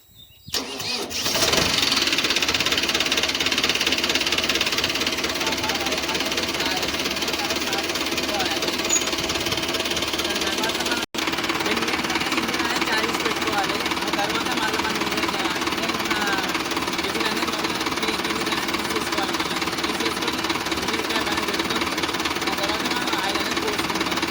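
A tractor engine runs at steady idle before an oil change, a close, continuous knocking diesel rumble that never changes pace, with someone talking over it.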